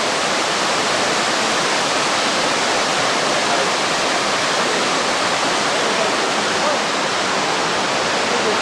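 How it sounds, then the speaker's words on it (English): Waterfall in a courtyard in Rome pours with a dense, steady broadband rush, loud and close, unbroken throughout with no other sounds rising above it. "And another waterfall."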